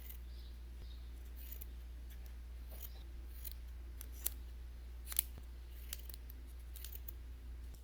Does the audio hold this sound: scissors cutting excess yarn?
yes